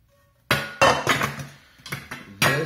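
Metal saucepans clank and clatter as they are handled, several sharp knocks and clinks at irregular intervals, close by.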